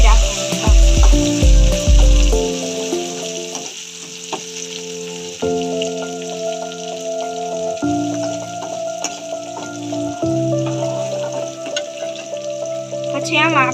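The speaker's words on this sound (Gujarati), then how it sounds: "પછી ટામેટા, થોડીક વાર આને શેકાવા દેવાનું। ગેસની ફ્લેમ ધીમી રાખવાની।" Tomatoes frying in a pan over a low gas flame, a loud steady close sizzle throughout, with clattering utensil knocks at the start and a tonal hum underneath.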